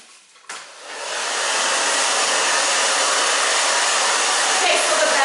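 A hair dryer blows on short pixie-cut hair, switching on with a brief click and rising into a loud, steady roaring whoosh that stays close and constant.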